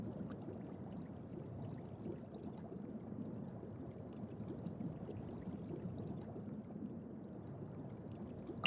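Steady water pouring effect from Genshin Impact, a continuous low splashing flow that holds at an even level throughout with no breaks and no voices.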